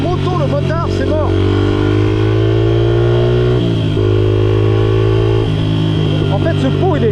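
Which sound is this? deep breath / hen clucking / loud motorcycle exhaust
loud motorcycle exhaust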